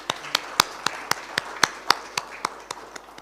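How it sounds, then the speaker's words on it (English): Slow, sparse claps at a road transport conclave, about a dozen distinct hand claps spaced evenly and fairly close, rather than a full crowd's applause. "I think that deserves a round of applause."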